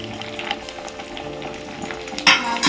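Herbs, lemon, onion, black cumin, fenugreek and hibiscus fry in oil on a low flame for homemade hair oil, a close sizzle with scattered stirring clicks and a louder scrape near the end.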